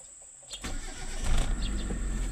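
A Proton Wira car engine with a newly fitted crank sensor cranks briefly and catches, then settles into a steady, close idle; no one talks.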